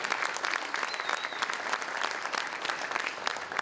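Audience applause at a mayor's State of the City address, honoring newly licensed paramedics; steady, dense clapping from a large crowd that holds evenly throughout without a break.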